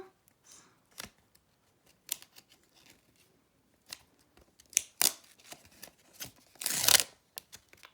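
Crinkling and tearing of a paper surprise packet holding stickers, with short crisp rustles and a louder rip near the end, close by and otherwise quiet.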